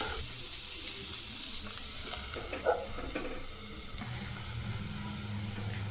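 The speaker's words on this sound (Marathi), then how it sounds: "यामध्ये बारीक चिरलेली कोबी टाकून घेऊ। ही व्यवस्थित परतून 2 मिनिटं झाकून ठेवू आपण।" Finely chopped cabbage sautés in a pan with ground garlic. A faint, steady sizzle is heard throughout, with the occasional scrape of stirring.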